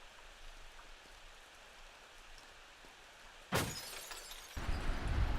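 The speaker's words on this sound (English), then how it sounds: "break your window, my bad." In the video game Rakuen a window shatters suddenly after several seconds of steady rain-like hiss, a loud bright crash followed by a lingering noisy wash that swells again near the end.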